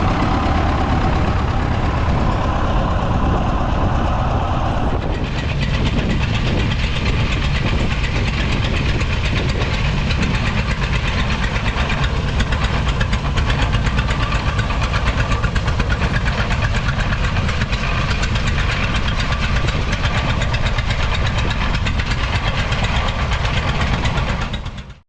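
A prototype International WD-40 tractor engine runs at a show, a loud, continuous rough chugging with a steady knocking rhythm that carries on without pause throughout.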